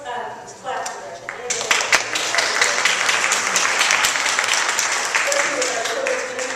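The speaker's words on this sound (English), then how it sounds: "Gretchen here, let's clap for Gretchen." Audience applause at a church Christmas Eve pageant, clapping building quickly into a steady, fairly loud wash that carries on for several seconds, with a voice speaking briefly at the start.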